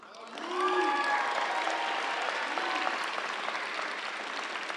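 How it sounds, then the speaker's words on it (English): A round of applause from an audience at a Berkeley Engineering baccalaureate commencement greets a graduate being introduced, steady moderate clapping swelling after a second, with a voice speaking faintly over it. "Please stand as I introduce you and remain standing for a collective round of applause."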